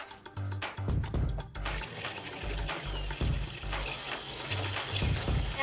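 Water splashes and gurgles into an animal waterer during farm chores, a steady rushing fill with uneven knocks and sloshes, fairly close and quiet.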